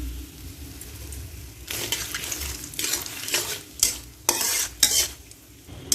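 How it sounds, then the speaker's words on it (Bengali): Five-spice seeds, dried chillies and bay leaves hit hot oil for mango pickle, giving a close, steady sizzle with crackling bursts and a few stirring scrapes of a spoon against the pan, no talking. "তেলের মধ্যে এই 5 ফোড়নটা দিয়ে দিলাম, তারপর এই শুকনো লঙ্কাটা দিয়ে দিলাম বেশ কিছু তেজপাতা।"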